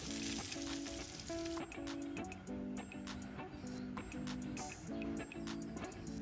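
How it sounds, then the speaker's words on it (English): Onions frying in a pan for a stir-fried pork dish, a quiet, steady sizzle with small ticking crackles and occasional scrapes of stirring, heard at close range. "Add as many onions as you want because they add lots of flavor to this recipe, and then fry until they lose color."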